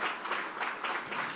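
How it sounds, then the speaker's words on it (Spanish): A church congregation claps loudly in praise during a Spanish-language service, a dense, continuous burst of applause filling the space. "Fuerte ese aplauso de alabanza al Señor"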